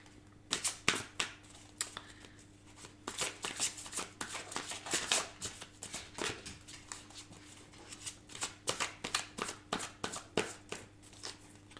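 Tarot cards laid down one after another to cover others, producing a run of crisp, close card slaps and shuffling rustles in an irregular rhythm against quiet background hum.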